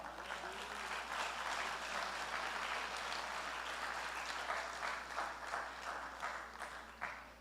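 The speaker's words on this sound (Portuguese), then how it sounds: "palmas ao Senhor" A church congregation claps together in praise, a sustained wash of applause at moderate distance, fairly even throughout and tapering slightly toward the end.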